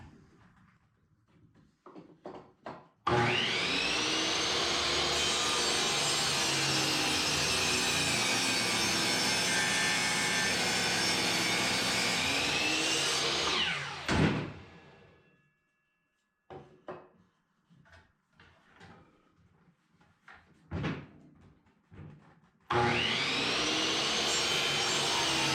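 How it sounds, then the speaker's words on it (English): Miter saw set to 45 degrees cutting a wood piece for a bird feeder: a loud, sustained whining cut of about eleven seconds, then quieter shuffling and knocks, and a second burst of the saw starting near the end. "turn my miter to 45 degrees, and we're going to cut it."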